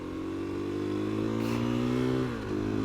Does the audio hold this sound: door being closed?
no